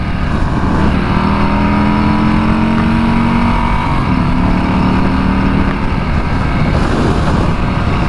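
A 2020 Harley-Davidson Street Bob motorcycle engine accelerates at around 60 to merge, a loud, steady, close drone with tones that climb and shift under constant wind rush, and no voices.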